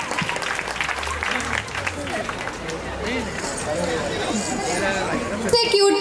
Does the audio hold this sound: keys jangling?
no